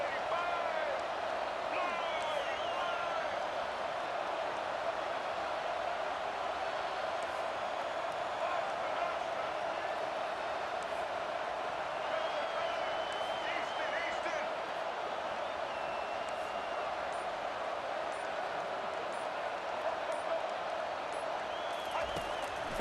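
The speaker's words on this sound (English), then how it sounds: "Listen to this crowd begging its defense to get a stop." A stadium crowd roars continuously in EA Sports College Football 25, a dense steady wall of cheering with occasional whistles, while a commentator's voice talks over it.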